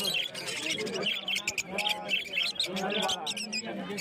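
Jumbo and long-tailed finches at a rainy winter bird market in Uluberia give off bursts of high, quick chirps and tweets, close and busy, layered over a murmur of market voices and background noise.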